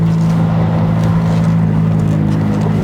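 A 2018 McLaren 570S Spider rolls over a speed bump, its engine holding a loud, steady, droning hum throughout with no clear jolt standing out.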